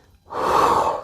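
A single deep inhalation during an elbow dip exercise, heard close and clear after a brief pause, swelling quickly and holding as a breathy rush.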